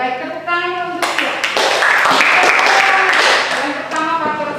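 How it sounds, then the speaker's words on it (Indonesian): Applause in a classroom as students clap for a classmate, a burst of many hands rising after a second, holding steady and loud for a few seconds, then thinning out under voices at the end. "tepuk tangan untuk dia"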